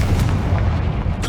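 A Confringo fire spell cast in Hogwarts Legacy bursts into a dense, booming blast with a sustained low rumble and crackle, loud and close, running continuously for over a second with no voices.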